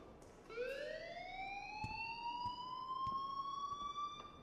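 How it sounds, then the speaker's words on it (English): A wailing electronic alarm rings in the Life is Strange video game, its rising tone climbing and holding steady alongside faint clicks and thuds, fairly quiet throughout. "please turn off that alarm since that's your job"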